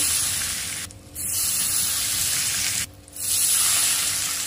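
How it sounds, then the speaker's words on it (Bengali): Hot mustard oil poured over spiced mutton with turmeric and bay leaf, a loud, close sizzling hiss in two long bursts separated by brief pauses, with no talking. "সর্ষের তেল গরম করে নিয়েছি, দিয়ে দিচ্ছি দেখো গরম তেল"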